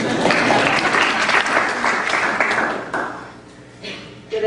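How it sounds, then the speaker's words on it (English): An audience at a parenting talk breaks into loud, steady applause that gradually thins and fades toward the end, with a few scattered claps lingering. "Round of applause."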